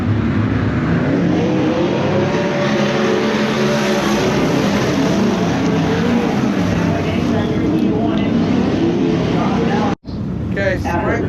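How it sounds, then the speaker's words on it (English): Sprint cars race around a dirt oval in a heat, their engines forming a loud, continuous roar that cuts out abruptly near the end and then resumes. "sprint cars are out now for the heat 1"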